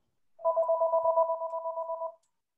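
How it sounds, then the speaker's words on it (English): A mobile phone ringtone sounds close and clear in a quiet room, a steady warbling two-tone ring lasting about two seconds before cutting off. "Somebody's phone is."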